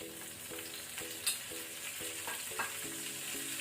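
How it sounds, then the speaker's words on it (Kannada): Cumin seeds fry in hot cooking oil for a rajma masala, giving a steady close sizzle with a few sharper pops and crackles; no one speaks. "ಎಣ್ಣೆ ಬಿಸಿ ಆದ ನಂತರ ನಾವು ಜೀರಾ ಸೀಡ್ಸ್ ಹಾಕೊಳ್ಳುವ"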